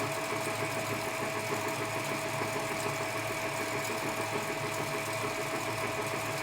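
An Edgwick lathe runs steadily while cutting a hob for a thread dial, a continuous dense mechanical whir and hum with a rapid rhythmic chatter, loud and unbroken throughout.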